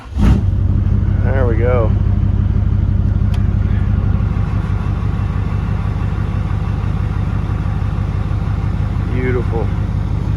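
A 2005 Chevrolet Silverado LLY Duramax diesel pickup engine cold-starts, turning over and settling into a steady, rumbling idle, with a person speaking briefly over it.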